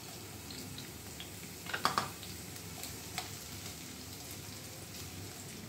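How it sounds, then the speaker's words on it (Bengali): Chopped onion goes into a hot pan for chicken manchurian and sizzles steadily, a soft broadband frying hiss with a brief louder crackle and stir near the start, then settling into a quiet, even sizzle. "এবার দিয়ে দিচ্ছি কেটে রাখা পেঁয়াজটা"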